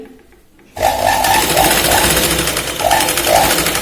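A sewing machine stitches a half-inch seam on a boat neck kurti, starting abruptly after a near-silent moment, then running as a loud, steady, close whir with slight rhythmic variations.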